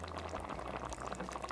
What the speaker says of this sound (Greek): ρίχνω τις πένες μέσα στην κατσαρόλα και αφήνω να βράσουν al dente